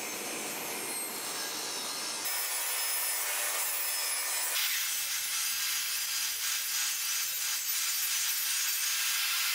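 Wooden boards being ripped lengthwise on a saw for edge gluing, a loud continuous whining cut that holds steady for the full stretch, its tone shifting as the blade moves through the wood.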